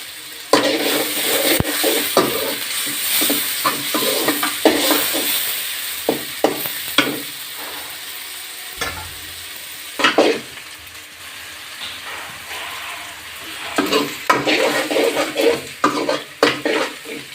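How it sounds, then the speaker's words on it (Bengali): Onions and grated ginger sizzle in oil in a pan, a steady hiss broken by repeated scraping and clinking strokes of a metal spoon stirring, close and fairly loud, with no speech. "পেঁয়াজগুলো লাল হয়ে এসেছে, ভাজা হয়ে গিয়েছে"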